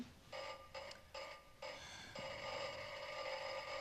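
A ringing bell sounds in a French stage drama, used as a doorbell: short electric bursts in a stop-start pattern, then one longer sustained ring, fairly close and with no talk over it.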